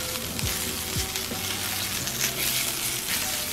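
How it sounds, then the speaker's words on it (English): Food toasts in butter on a pan, giving a close, steady sizzle and soft crackle with a few faint tonal tones in the background, short and without talk. "So I'm just going to grill it a little bit with some butter."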